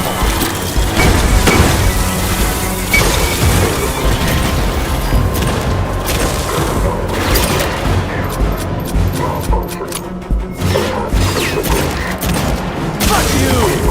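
Grenade blasts and rapid gunfire fill a dense, loud game battle in Aliens: Fireteam Elite, with continuous booming and firing throughout and voices now and then over the din.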